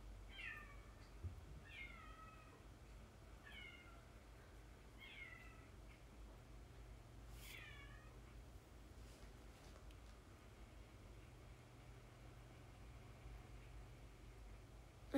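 A cat meows about five times in short, rising calls spaced a second or two apart. The meows are faint against a quiet, hissy indoor background.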